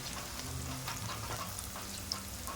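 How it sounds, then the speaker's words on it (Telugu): Onions and fenugreek leaves fry in a pan for a mutton kheema curry, giving a steady, close crackling sizzle with no pauses. "ఉల్లిగడ్డలు మెంతి కూర వేగింది బిడ్డ"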